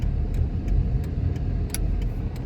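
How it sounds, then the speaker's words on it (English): A sports car's engine rumbles close by in traffic, a low, steady throaty drone with small ticking clicks over it and no talking. "There's a sports car next to me."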